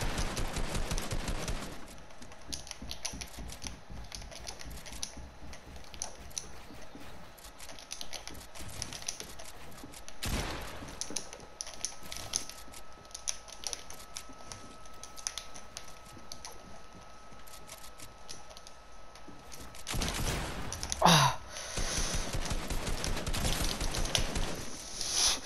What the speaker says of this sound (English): Okay, I'll play on keyboard.